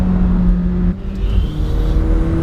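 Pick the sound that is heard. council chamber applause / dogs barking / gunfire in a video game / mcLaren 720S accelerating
mcLaren 720S accelerating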